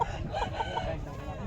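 A rooster crows nearby at a livestock market, a short strained call with other fowl clucking around it, and faint voices in the background.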